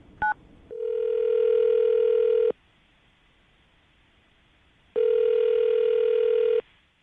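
A telephone handset sounds a quick dial tone blip, then a steady ringback tone in two long rings separated by a pause of silence, clean and close.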